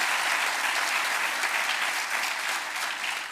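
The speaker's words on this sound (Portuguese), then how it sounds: "a quem peço uma salva de palmas" Audience applause at a municipal swearing-in ceremony for newly elected local officials: steady, dense clapping from a large crowd, loud and continuous throughout, gently tapering at the end.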